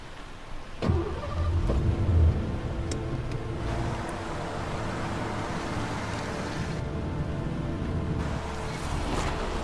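A car in the video game Heavy Rain drives through mud, with a low engine rumble and a thump near the start, then a steady drone that runs under faint squeaks and clicks.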